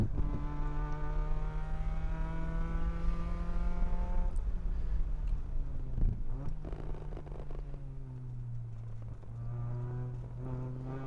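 Mazda Miata race cars lap WeatherTech Raceway Laguna Seca in an endurance race, one engine's whine climbing steadily, breaking off with a gear change midway, then droning on at a lower, even pitch.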